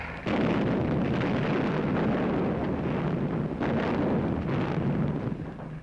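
WWII mortar and field artillery fire in Normandy rumbles as a dense, continuous roar of distant blasts and booms, loud and sustained with a few sharper surges, with no voices.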